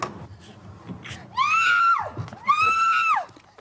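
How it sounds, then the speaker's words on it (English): Two long, piercing screams ring out one after the other over a faint, murky background. "The screams were heard by a couple walking home a block away."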